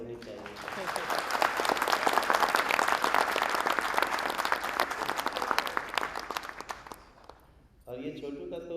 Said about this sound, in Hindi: एक बार फिर से तालियां होनी चाहिए।